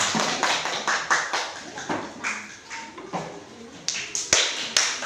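A classroom of students claps for a discussion group in scattered, uneven bursts of taps and claps, with voices mixed in.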